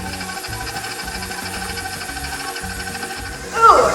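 An electric mixer beats sugars and shortening together in a bowl for crunch drop cookies, giving a steady, rhythmic mechanical whir and clatter close by that rises briefly at the end.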